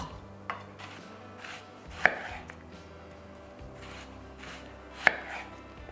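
A knife cuts a red onion into thin slices about 2 millimeters thick, giving a few sharp, isolated knocks on a board that stand out clearly against a quiet kitchen background.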